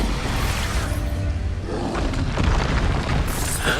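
Repeated Expulso explosion spells blasting in Hogwarts Legacy gameplay, a loud continuous run of booming bursts with dense, roaring rumble throughout.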